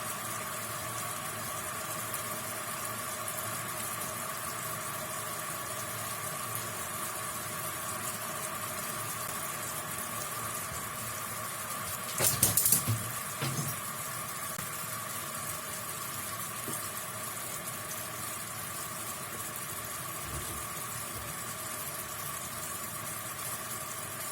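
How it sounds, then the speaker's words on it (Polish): A pot of sugar and water boils with a steady, low bubbling hiss throughout, and a brief clatter near the middle. "widać, jak już cała woda się gotuje i cukier zaczyna się rozpuszczać"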